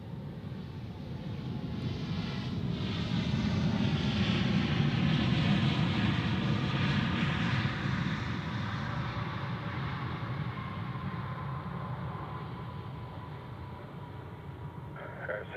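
A passenger airplane landing at Zurich Airport rumbles as a broad, steady engine roar that swells, then slowly fades as the jet rolls out.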